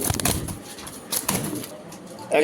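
A male Shadel racer pigeon gives short close coos and rustles, with quick bursts of wing flapping near the start and again partway through, all within a couple of seconds.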